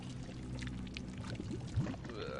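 Thick oil and blood pour out in Shadow of the Tomb Raider, a steady liquid gush running throughout with a brief splashy surge near the end.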